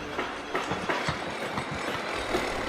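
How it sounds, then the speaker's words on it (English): Trains rush through a new tunnel with a steady rhythmic clatter of wheels over rail joints under a broad rushing roar, moderately loud and close. "he watches the trains rushing through the new tunnel"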